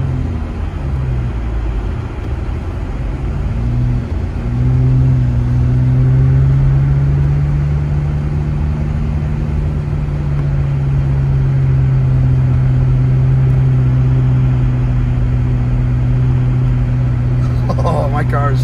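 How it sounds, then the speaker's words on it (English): A car labours through snowy mountain roads near Big Bear, its engine droning loud and steady with a strained hum rising and holding for long stretches, constant low rumble underneath. "Oh, my car is struggling."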